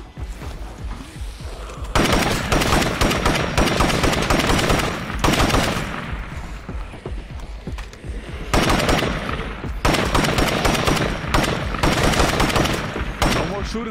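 Long bursts of rapid automatic gunfire from the video game State of Decay 2 come loud and close in several sustained volleys, broken by brief pauses.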